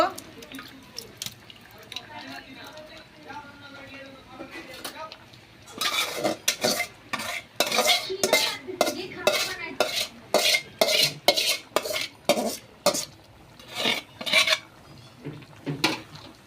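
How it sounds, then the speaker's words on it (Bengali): Beef biryani being stirred in a pot, at first quiet with a voice talking, then a run of sharp, rhythmic metal spoon scrapes and clanks against the pot, close and loud. "এখন আমি একটু লাড়া দিয়ে দিব।"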